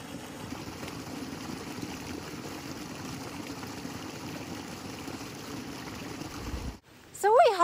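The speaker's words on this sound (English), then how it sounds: "there's a little waterfall up in there and it just goes up the little hill." A small waterfall on a little hillside runs in a steady, soft wash of falling water, continuous and moderately close until it cuts off near the end, with a voice briefly audible.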